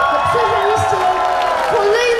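A festival crowd at a wine festival in Zielona Góra cheers, whoops and applauds in a dense, continuous mass of voices, with a loud shout rising over the roar near the middle and end.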